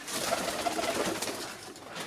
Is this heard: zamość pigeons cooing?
yes